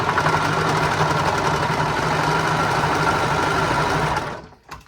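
Serger stitching steadily across fabric while sewing a cloth romper, a continuous loud mechanical whir for about four seconds that cuts off abruptly, followed by a brief faint clunk.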